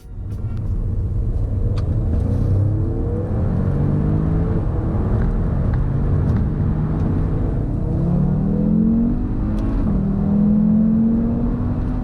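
An Audi RS3 or S3 engine revs hard and climbs steadily in pitch as it accelerates from 30 to 70, loud and close for the whole stretch with no talking.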